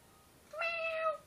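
A female cat gives one drawn-out meow up close, rising clearly out of a quiet room and lasting under a second.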